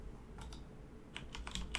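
Keys clatter on a computer keyboard while a plugin name is typed into an IntelliJ settings search box, with two brief bursts of clicks separated by a pause, close and fairly quiet.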